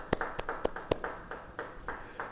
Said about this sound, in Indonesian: Yang percaya beri tepuk tangan buat Tuhan